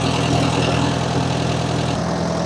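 A farm tractor idles steadily with a seed drill hitched behind it, a close, continuous low engine rumble with no talk.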